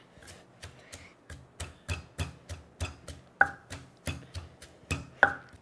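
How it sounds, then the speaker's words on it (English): Red chilies pounded in a mortar and pestle for Thai pad ka pao, a sharp close thud roughly every third of a second in an even rhythm, with a couple of harder ringing knocks. "Keep mashing until the size of the chili is about this."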